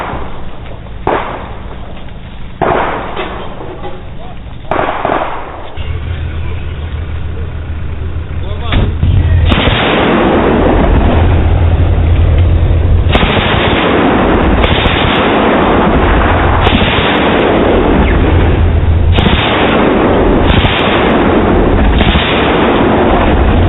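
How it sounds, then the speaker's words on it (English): A 20 mm rapid-fire cannon in a heavy firefight during the Battle of Donetsk in the Ukraine war, booming in loud repeated bursts over constant low rumble and crackle, with band-limited, distorted recording quality. "This to me sounds like a 20 millimeter cannon."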